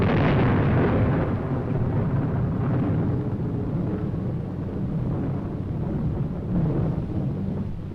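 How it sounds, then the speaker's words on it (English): The 1945 Trinity atomic bomb test blast in New Mexico comes through as a loud, deep, rolling rumble that sustains throughout with slight swells and no voices. "This was the first test of the atomic bomb in New Mexico."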